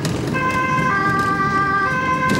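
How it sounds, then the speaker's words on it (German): An ambulance siren wails steadily and loud from a rescue vehicle heading to an emergency on the Donauinsel in Vienna, its sustained warning tone over the rumble of the moving vehicle. "Mit akustischem Warnsignal wird bis zur Einsatzstelle vorgefahren."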